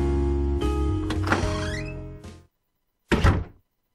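Door thunks shut with a solid knock-like impact and a rattle, followed after a brief silence by a second short thud.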